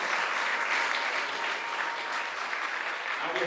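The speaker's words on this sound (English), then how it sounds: "So I think you all deserve a big round of applause." A wedding audience at a Hindu ceremony applauds steadily, a dense wash of clapping from a crowd that holds an even, moderately loud level throughout without dying down.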